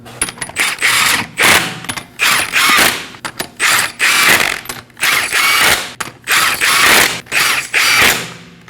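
Ratchet snugging lug nuts on a Nissan Armada wheel, loud close bursts of rapid clicking repeated in short strokes with brief gaps between them.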